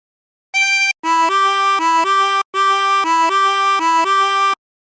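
A harmonica plays a short phrase of Turkey in the Straw, with a brief opening note then a run of clean, evenly paced alternating tones, loud and close with no talking.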